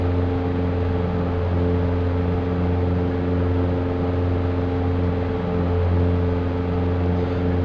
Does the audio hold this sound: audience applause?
no